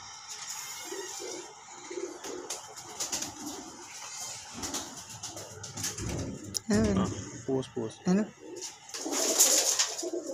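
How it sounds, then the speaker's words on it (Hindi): Pigeons coo in soft, throaty bursts near the microphone, with rustling and a brief flutter, and someone talking intermittently. "माशाल्लाह बहुत शानदार कबूतर है"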